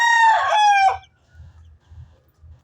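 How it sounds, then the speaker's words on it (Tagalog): A 26-month-old Black Dom brood cock, a large 2.65 kg gamefowl rooster, crows once loudly and close for about a second, followed by soft low clucks and shuffling. "Malaking manok."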